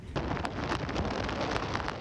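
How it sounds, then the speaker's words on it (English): Heavy rain falls during a morning of flooding in San Diego, a dense continuous hiss with scattered sharper splashes, loud and close, with no voices. "Heavy rain came down most of the morning, causing a lot of flooding, leading police to shut down several roads"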